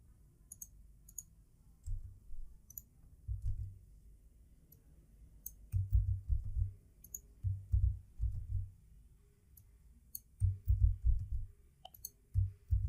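Computer mouse clicks and keyboard taps while SQL data is pasted into a MySQL table in a web programming class, a scattered series of soft, close clicks in irregular clusters over quiet room hiss.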